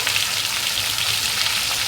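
Pieces of katla fish seasoned with salt and turmeric frying in hot oil, giving a steady, even sizzle with a crackly hiss throughout and no voices.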